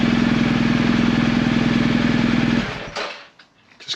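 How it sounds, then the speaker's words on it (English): A BMW R1250GS motorcycle engine idles loudly and steadily up close with a throbbing rumble, then is shut off and falls away to near quiet with a few faint handling noises. "Just kill the engine, it's a bit noisy"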